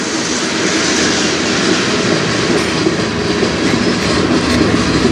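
CN freight train rolling past on the Strathroy Subdivision, a loud, steady roar of wheels and railcars close by, with no voices.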